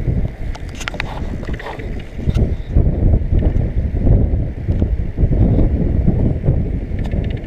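Bicycle rolling downhill on a ride between Barbizon and Fontainebleau in France, heavy wind buffeting the microphone throughout with a continuous rushing roar and faint rattles.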